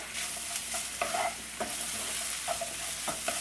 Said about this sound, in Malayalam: എല്ലാം കൂടെ അതെ ഇതുപോലെ നന്നായിട്ടൊന്ന് മിക്സ് ചെയ്ത് കൊടുക്കാം.